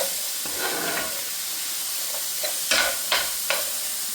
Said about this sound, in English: now y'all, I added my chickpeas, so I'm just letting them saute with the peppers and onions